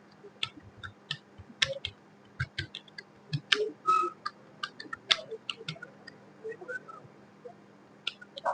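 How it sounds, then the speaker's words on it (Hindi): Keyboard typing during a CSS coding lesson: a brisk, irregular run of sharp key clicks, fairly close, continuing through the whole stretch with short pauses, alone without speech. "और कुछ हम यहाँ पर टाइपिंग कर देते हैं।"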